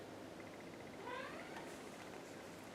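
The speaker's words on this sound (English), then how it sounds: "My little kitty is kind of crying here" A small pet cat gives one faint, rising meow midway, heard alone over steady background hiss in a quiet room.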